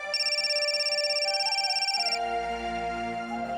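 A telephone rings indoors with a steady, repeating electronic ringtone pulsing in even beats, fairly clear and alone, before the tone changes partway through.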